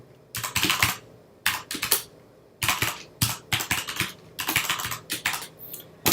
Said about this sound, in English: let me go ahead and type this here.